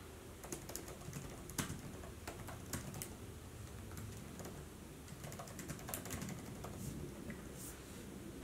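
Keystrokes on a computer keyboard entering a gift card title, a steady patter of light clicks with small pauses, close and fairly quiet over a soft room hum.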